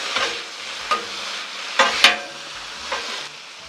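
Green beans sizzle on a Blackstone griddle after red wine vinegar is added, a steady close hiss with a few sharp spatters and stirring clatters scattered throughout.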